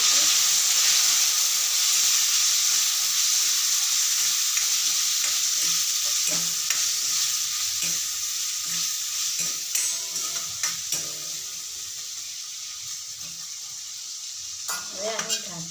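Ivy gourd (tindora) tossed into a hot pan with garlic, a steady loud sizzle and hiss of frying with repeated scraping stirs, the sizzle easing slightly over time and a brief clatter near the end.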